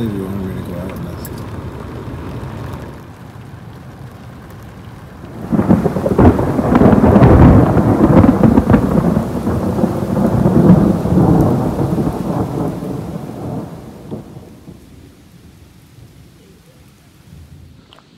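A thunderstorm rolls over a mountain ridge near Peaks of Otter on the Blue Ridge Parkway. A long, loud, deep thunder rumble swells and slowly fades over steady rain, and faint voices come earlier in the storm.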